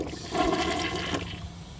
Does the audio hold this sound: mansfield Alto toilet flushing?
yes